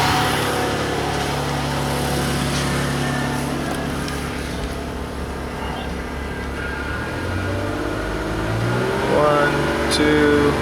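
A car engine is held at raised revs during a battery and charging-system load test, a steady droning rumble throughout with pitch shifts near the end, while a person talks over it.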